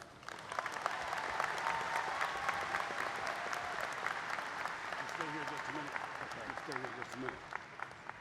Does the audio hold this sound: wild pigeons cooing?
no